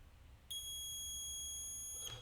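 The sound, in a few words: multimeter continuity test audible beep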